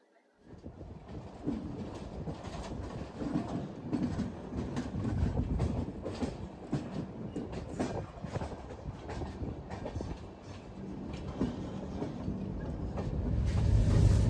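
A passenger train on the Hyderabad to Nasik route, heard from a first AC coach, rolls into Nizamabad railway station after a four-hour run. Its steady rumble and rattle of wheels on track sounds close and continuous, swelling louder toward the end.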